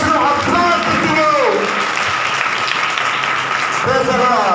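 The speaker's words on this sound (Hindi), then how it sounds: "इस बेटे के लिए सारे तालियां, हालेलुया, तालियां क्लैपिंग करावे" A church congregation at a Sunday service claps loudly and continuously, a thick, close wall of hand claps with voices calling out over it.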